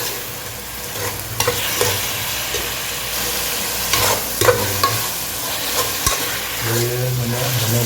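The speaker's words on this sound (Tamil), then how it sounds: "சுரக்காவும் போட்டுறேன். கொஞ்சம் எண்ணெயில் கொஞ்சம் வதங்கிட்டோம்." Bottle gourd sautéing in oil in a pan for a mutton gravy, a continuous hissing sizzle with scraping stirs and a few spatula knocks, close and fairly loud, no speech.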